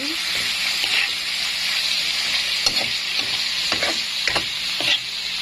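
Meat and string beans sizzle steadily in a pan for adobong sitaw while a utensil stirs them, with repeated scraping knocks over the continuous frying hiss and no talk.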